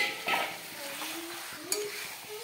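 Chicken stirred while frying in a pan, with a soft sizzle under scraping and clinking of a spoon against the pan, a couple of sharper knocks standing out.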